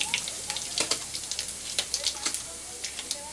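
Whole cumin seeds and dried red chillies hitting hot oil in a pan, crackling with a steady close sizzle and frequent sharp popping spits in an irregular patter.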